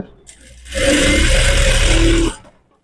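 A sewing machine stitching piping onto a blouse runs in one steady whirring burst of about a second and a half, close and loud, with quiet sounds of handling before and after.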